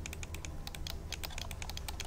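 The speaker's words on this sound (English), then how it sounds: "I'm clicking it." Rapid, irregular clicking from a computer mouse or keyboard during play of the video game Rime, sharp close taps repeating steadily over a low background hum.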